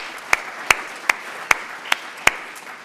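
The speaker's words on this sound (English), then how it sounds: "So give him a round of applause for his generosity." About six sparse, evenly spaced claps ring out over a faint room murmur, a small, thin round of applause rather than a full crowd.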